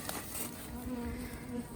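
Honey bees buzz close by around a queen cell, a steady droning hum with a few shifting tones as individual bees move, faint overall and without voices.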